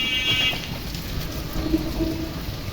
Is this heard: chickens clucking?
no